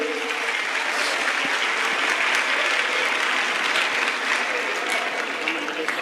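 An audience at a Sanatan religious convention in Karauli gives loud, continuous applause to welcome a guest onto the stage, with a steady crackle of many hands clapping at once.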